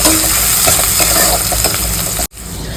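Cumin, mustard seeds, onion, green chillies and garlic sizzling loudly in a hot pan, a steady close hiss and crackle with a few light stirring clinks, cutting off abruptly near the end and then resuming.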